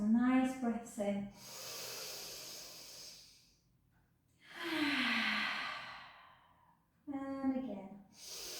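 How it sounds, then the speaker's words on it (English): Slow, deep breaths during a pilates class: a long audible exhale in the middle, with short instructing speech before and after it. "Take some nice breaths in."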